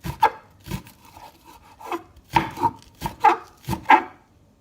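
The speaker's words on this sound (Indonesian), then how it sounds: "Daun bawangnya kita langsung aja potong-potong seperti ini" A knife chops fresh spring onions on a cutting board: a series of crisp, close knocks in an uneven rhythm, with brief pauses between strokes and no talking.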